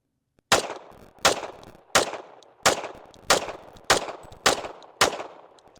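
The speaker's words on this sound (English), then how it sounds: "We're going to be shooting the CCI Blazer 230 grain first" Colt 1911 Government Model pistol firing CCI Blazer 230-grain .45 ACP rounds, eight sharp loud shots at an even pace of roughly one every two-thirds of a second, each with a short echoing decay.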